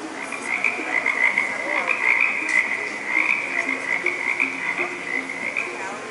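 Croaking toads as a Haunted Mansion show effect at Disneyland, a continuous chorus of rasping croaks repeating steadily for several seconds, loud and close with no talk over it.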